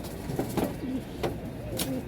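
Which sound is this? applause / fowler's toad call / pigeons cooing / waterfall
pigeons cooing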